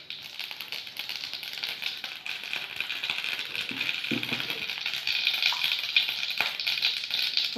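Cumin seeds crackling and spluttering in hot oil in a pan for an arbi palak sabzi, a steady dense patter of tiny pops throughout, fairly close and moderately loud, with no talking.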